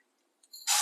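Mustard seeds sputter in hot oil in a pan for an aubergine rice dish, a short sharp burst of crackling and hissing that starts suddenly after near-silence, close and bright.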